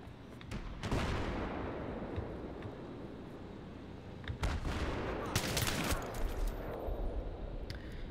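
Gunfire in Battlefield 3 crackles at a distance in several irregular bursts and single cracks, with a louder cluster of rapid shots near the middle over a constant battlefield rumble.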